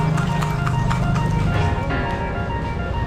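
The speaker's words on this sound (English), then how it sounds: "that was the last thing I thought I was going to see in this city, was a horse and cart" A horse pulling a cart clip-clops along an old street in Cebu City, Philippines, with a steady, close rhythm of hoof strikes over street bustle and a low rumble.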